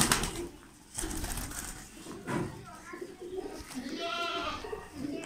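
Masakali pigeons coo in soft, throaty, repeated calls amid rustling and faint background noise, fairly close, with a few breathy bursts in between.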